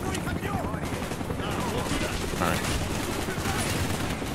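Rapid, dense gunfire fills a Call of Duty: Black Ops firefight, a near-continuous clatter of shots with someone briefly speaking over it.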